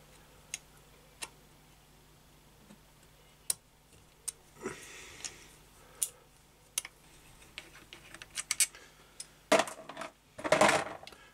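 Six screws are taken out of the top cover of an EMCO FB2 milling machine, giving sparse sharp metallic ticks and clicks that grow into quick clattering handling noises near the end, close and fairly quiet.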